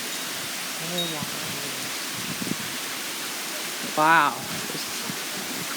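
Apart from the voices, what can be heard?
very heavy rain pouring down in a thunderstorm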